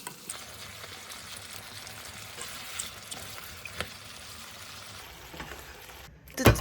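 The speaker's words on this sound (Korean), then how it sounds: "소스 넣고 나서 꼭 센 불에 볶아줘야지 물이 생기지 않아요." Chop steak beef and vegetables sizzle quietly in a pan over high heat after sauce goes in, with faint scraping stir sounds and a louder clatter at the end.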